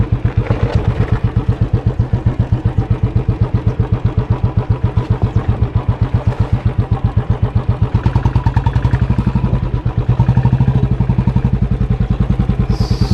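A Royal Enfield Classic 350 motorcycle rides off-road, its single-cylinder engine thumping in a steady, loud, close rhythm, with clattering from the rough ground and a slight surge near the end.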